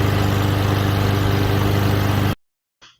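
A lawn mower engine running loud and close with a steady rumbling throb, then cutting off abruptly, followed by a brief faint sound.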